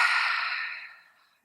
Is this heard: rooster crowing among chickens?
no